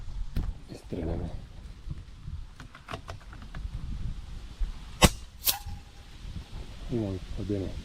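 Two sharp rifle shots ring out on an outdoor range at a target about 200 metres away, loud and close, separated by roughly half a second, with people talking before and after.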